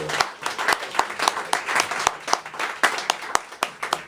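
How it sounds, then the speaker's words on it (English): A poetry night audience keeps clapping while the next poet walks up to the microphone, a moderate, uneven patter of hands from a smallish crowd with distinct individual claps standing out. "Keep clapping till he gets up here."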